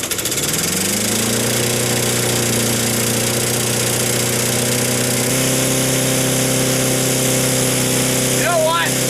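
Small lawn mower engine revving steadily at full throttle with its throttle fixed wide open, a loud continuous drone holding near-constant pitch for about nine seconds, with a brief faint squeak near the end.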